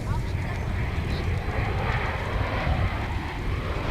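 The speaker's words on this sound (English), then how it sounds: "We're going to point to the northern sky for the arrival of Alaska Airlines Flight 716 coming in from Seattle." An Alaska Airlines jet arriving from Seattle at DFW International Airport makes a steady, broad jet engine roar at moderate distance, continuous throughout, with speech over it.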